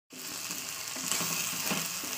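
Masala sizzles and fries steadily in a pan, a dense continuous hiss with faint scraping, close and fairly loud throughout, with no talking.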